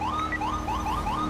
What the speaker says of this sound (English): Let's go ahead and get through some of this traffic with lights and sirens.